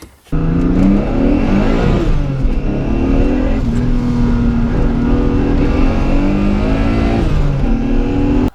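A turbocharged M52 engine in a BMW E30 runs loudly and steadily up close, its droning tone rising and falling with throttle, a faint rattle under the hum.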